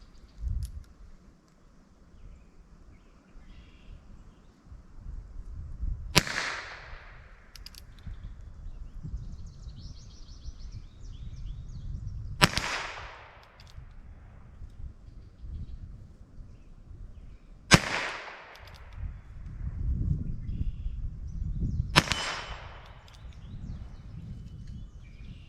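Four sharp .22 Short rifle cracks, several seconds apart, fired at a 10-inch steel plate 25 yards away, each a quick snap with a short fading tail over a quiet outdoor background.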